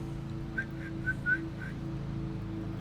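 A person whistles to call a dog, giving a quick series of five short, soft, high chirping whistles over a steady low background hum.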